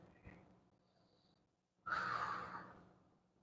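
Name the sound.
calm breathing before a 9-ball break shot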